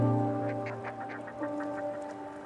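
Fulmars calling back and forth at a cliff ledge on a seabird colony, a run of harsh, cackling, duck-like calls repeating in quick bursts, close and fairly loud over a steady low hum.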